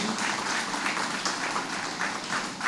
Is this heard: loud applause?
yes